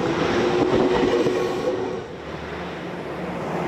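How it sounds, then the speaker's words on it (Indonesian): A train passes very close to a makeshift tent beside the tracks in Jakarta, a loud rumbling roar with rattling wheels and a faint squeal that eases slightly midway, heard alone without talk. "Bising dan bahaya kereta yang melintas setiap menit terpaksa dijalankan."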